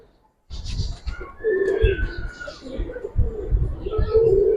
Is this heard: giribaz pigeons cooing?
yes